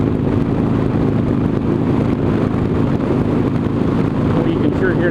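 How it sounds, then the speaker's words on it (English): Steady, loud roaring wind buffeting the microphone while riding a motorcycle east-west on a cold day, a continuous broadband rush that covers everything else for the whole stretch. "Oh, you can sure hear that wind again now, can't you?"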